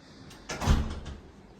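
A door at a rented villa closes with a single close, soft thud and a short rumbling tail, with no talking.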